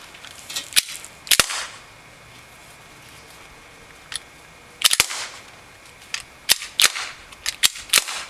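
A RAP4 paintball marker with a sear that fails to hold fires by itself in sharp, loud cracking pops, some single and some in quick doubles or bursts, with pauses of near quiet between them.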